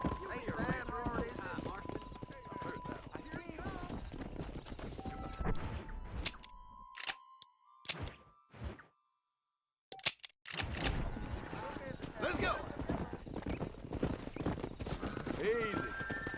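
Horses clip-clop at a steady gallop while ridden in the Red Dead Redemption video game, the hoofbeats loud and continuous under character dialogue, broken by a short quiet gap before resuming.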